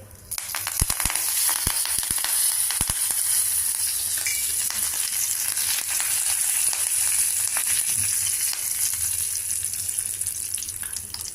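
Asafoetida and curry leaves sizzle steadily in hot oil, a loud continuous frying hiss with a few sharp crackles near the start and no talking over it.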